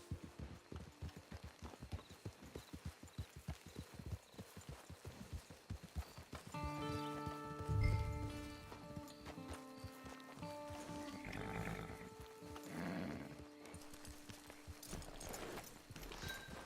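Horse hooves clip-clop in a steady, fairly quick rhythm in the Western video game Red Dead Online, then slow as a sustained musical tone and other game sounds rise over them.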